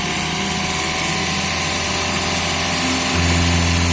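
A used hybrid car's engine runs with the oil filler cap removed, a loud steady mechanical whir and hum that deepens slightly near the end as the throttle is pressed.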